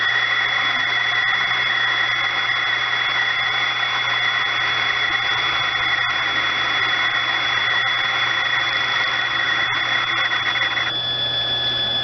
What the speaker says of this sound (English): When your bobbin is full, the bobbin will stop spinning, but the motor will still run